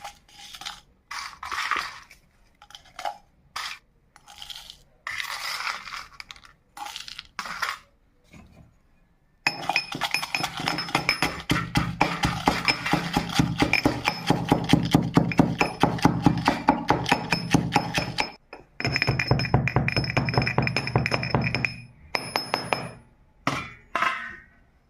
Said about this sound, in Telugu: ఇవన్నీ కలిపి పౌడర్ కింద కొట్టుకోవాలండి.